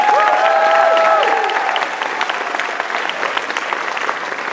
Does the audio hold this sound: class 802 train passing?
no